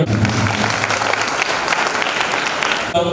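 A church congregation claps together at a Christmas candle light service, a close, loud burst of applause that cuts off near the end.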